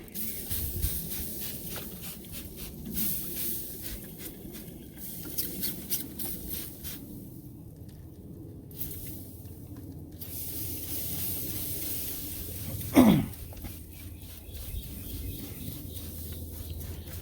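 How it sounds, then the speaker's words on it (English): Barbecue ribs on a grill get a single short spritz from a spray bottle, a quick hissing burst that stands out over a steady low background of grill and outdoor noise. "I'm gonna go ahead and spritz it."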